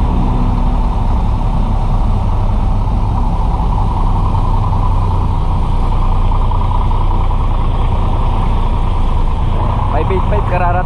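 A bus engine rumbles steadily at a terminal, a loud low drone idling throughout while people talk over it.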